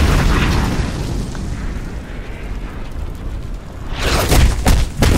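A loud, rumbling explosion from the animated series Star Trek: Lower Decks booms continuously, then a sharper burst of blasts hits near the end.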